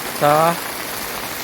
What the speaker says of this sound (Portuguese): Aqui eu estou gravando a chuva, bateu uma chuva forte aqui